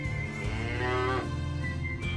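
A cow lets out a long, loud moo from close by that rises and falls in pitch, followed by the start of another low call.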